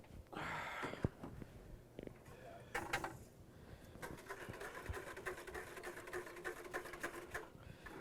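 A B12 machine mixes mint water ice, giving off a steady mechanical whirring and rattling hum with a few clunks near the start, moderately quiet and continuous with no talking.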